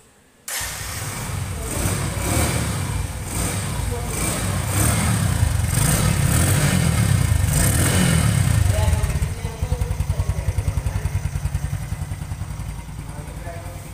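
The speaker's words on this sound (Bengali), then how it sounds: "বাইকটির সাউন্ড কোয়ালিটিটাও কিন্তু অনেক ভালো আছে" Bajaj CT 100 motorcycle, a used bike in fresh condition, starting up and running at a steady, even throb close by, settling into a rhythmic idle near the end, with a person talking over it.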